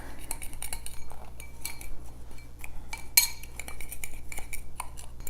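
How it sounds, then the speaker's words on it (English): A spoon mixes brown sugar and cinnamon in a bowl, giving steady close scraping and light clinks against the dish, with one sharper clink partway through and no voices. "So I have 1/3 cup of brown sugar and 1 tablespoon of cinnamon. We're going to mix that up."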